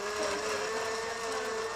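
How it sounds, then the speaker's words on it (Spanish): A blender whirs steadily at high speed, a constant motor drone with no pauses and no voices. "el dulce sonido de una licuadora"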